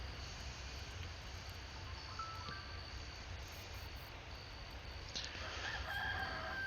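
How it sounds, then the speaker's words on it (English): A rooster crows at daybreak, distant and faint, with a couple of drawn-out calls over a steady rural background hiss. "We got the rooster crowing."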